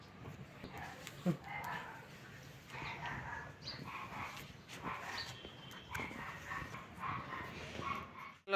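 A puppy whimpers and yips softly over steady background chatter, with voices talking nearby throughout.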